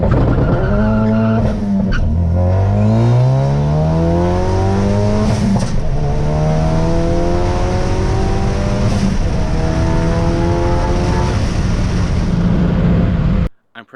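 A 2017 Ford Focus RS doing a hard launch, engine revving steadily and rising in pitch under heavy tire noise and a harsh scrabbling roar, loud and continuous for about fourteen seconds before cutting off.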